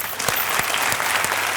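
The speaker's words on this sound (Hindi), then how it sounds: "तालियां।" A studio audience breaks into a short burst of clapping, dense and steady for under two seconds, close and lively.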